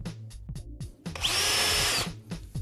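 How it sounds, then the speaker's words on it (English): A power drill whirs in several short stuttering bursts while drilling holes in a kitchen unit's wood panel, then bores steadily for about a second before a few more quick pulses. "Drill the holes roughly a hand's width from the edge of your unit."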